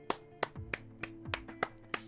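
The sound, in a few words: hands clapping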